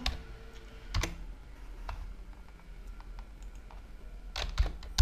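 Typing on a computer keyboard while entering text into a spreadsheet cell, with sparse soft clicks and taps close up and a few louder key strikes near the start and end.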